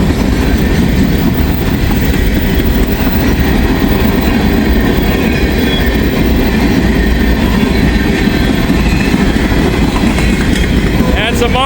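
A long freight train rolls past close by on the rails, a loud, steady rumble with faint wheel clatter throughout and no letup.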